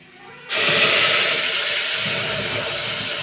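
Raw masala with chilli powder, turmeric and coriander powder dropped into hot oil in a pan for a horse gram gravy, bursting into a loud sudden sizzle that settles into a steady frying hiss.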